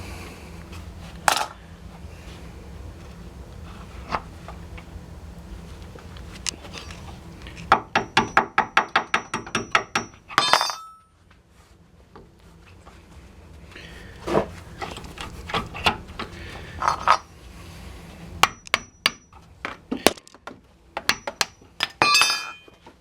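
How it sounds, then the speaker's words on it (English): A cotter pin is worked out of an outer tie rod end during a front end repair, with sharp metallic clinks and ticks in irregular bursts, close by, some in quick runs, with no talk. "you can see this one does have the cotter pin, so we need to get that out of there first"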